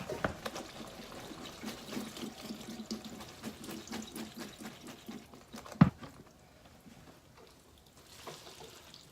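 Water from a pot of cooked pasta for homemade Southern mac and cheese pours into a colander in a kitchen sink, a steady splashing rush with a sharp clunk near six seconds before it fades to a faint trickle.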